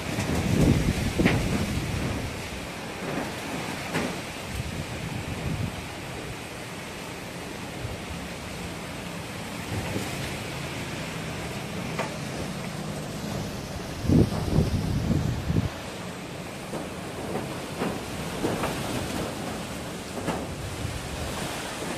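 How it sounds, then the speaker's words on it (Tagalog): Strong typhoon wind sweeps through Iloilo City, Philippines, a steady roaring rush with louder gusts surging now and then, close and filling the whole scene with no voices. "So ganito ang lakas ng hangin dito, 11:30 sa amin."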